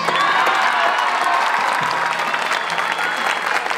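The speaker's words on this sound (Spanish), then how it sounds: "un aplauso para ustedes." Dense crowd applause at an outdoor political rally in Zamora, Michoacán, steady and loud throughout with faint cheering mixed in.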